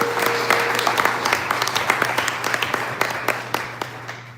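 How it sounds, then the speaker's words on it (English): An audience at a startup pitch event gives a round of applause for a presenter, steady clapping from a modest crowd with distinct individual claps standing out, fairly close and gradually thinning toward the end. "we'll give a round of applause for Anthony"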